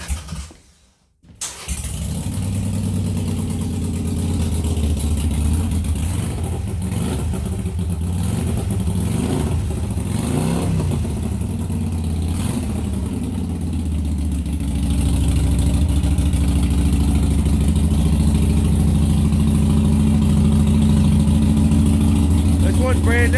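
A motorcycle, one of a 1971 Harley-Davidson XLCH Sportster, 2016 Harley-Davidson 883 Iron or 2002 Yamaha, cranks and fires, then runs at a loud steady idle with a few rising revs, close by, filling the rest of the clip.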